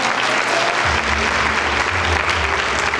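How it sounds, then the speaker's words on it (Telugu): A crowd at a Christmas celebration in KNR Garden, Dichpally, claps loudly and steadily, a dense, close wash of hands lasting throughout. "గట్టిగా చప్పట్లు కొడదాం."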